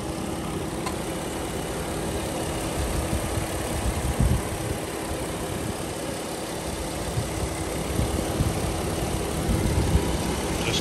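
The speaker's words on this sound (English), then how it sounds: "You can hear the AC compressor cycling on and off." A 2008 Jeep Wrangler Unlimited engine idles steadily and close by, a low continuous rumble with a faint mechanical hum, its level rising slightly at moments as the AC compressor cycles.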